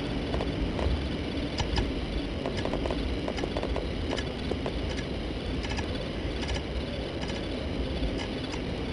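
Horse hooves clip-clop in the Empire Earth 2 strategy game, a steady patter of light clicks over a dense, constant background of game ambience with no talking.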